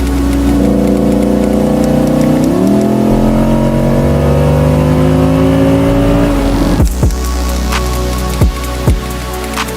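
A supercar engine driving, loud and close, with a rising tone as it accelerates through a gear change, then dropping to a quieter idle-like drone broken by a few sharp knocks.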